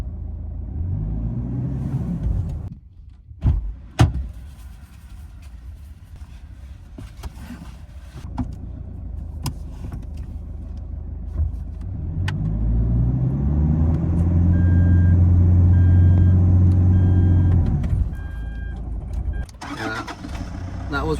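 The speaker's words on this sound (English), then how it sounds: "go into reverse" A car stuck on sand dunes revving its engine in reverse, a loud rising and falling engine roar with strain and idle stretches, while people talk over it.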